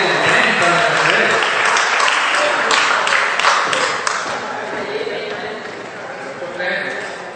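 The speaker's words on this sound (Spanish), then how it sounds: "Un fuerte aplauso para Doña Mercedes" An audience at a spiritual seminar gives a strong round of applause, loud, dense clapping with some distinct individual claps, easing slightly toward the end while talk carries on under it.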